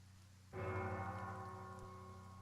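A large bell tolls in the video game Pillars of Eternity, one loud struck tone with a long ringing decay over steady rain hiss.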